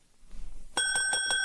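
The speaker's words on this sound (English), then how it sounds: "There was a bell on the counter." A shop counter bell rings once in a quiet room, a bright sustained ding with a few quick strikes that rises sharply from faint background noise.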